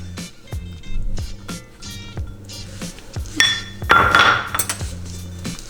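Whisked egg is stirred into mashed banana baby-food batter in a bowl, a steady rhythm of close utensil clinks and scrapes against the bowl.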